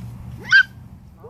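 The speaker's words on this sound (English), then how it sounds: "Who's that barking?" A single sharp, high yip-bark from a five-week-old Norwegian Buhund puppy, close and loud, with a second faint rising cry starting at the end over quiet background.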